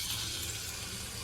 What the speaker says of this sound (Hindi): जो मैंने पानी रखा हुआ था मसाले वाली कटोरी में, मैं उतना पानी इसमें डाल दूँगी